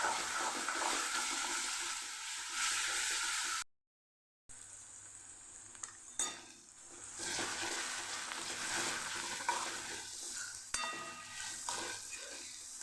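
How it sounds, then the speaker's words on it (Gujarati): Grated onion sautés in a pan for a Kathiyawadi desi chickpea curry, a soft continuous sizzle and hiss with a brief dropout to silence, then stirring scrapes and small clatters returning over the frying. "ડુંગળીને આપણે સરસ સાતળી લેવાની, થોડો કલર ચેન્જ થાય ત્યાં સુધી આપણે ડુંગળીને સાતળવાની છે"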